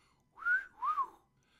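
A man whistles two short rising-and-falling notes in an old Adam Hats radio commercial, clear and close against near silence, with no talking.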